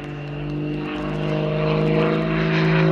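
Aerobatic propeller airplane pulling out of a dive at an airshow, a loud sustained droning engine with a steady harmonic whine, slowly rising in loudness as it nears.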